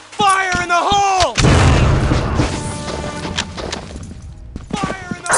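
A grenade blast in Soldier of Fortune follows a shouted voice line, a loud crashing boom with a long decaying rumble and scattered debris clatter, then sharper gunshot-like cracks near the end.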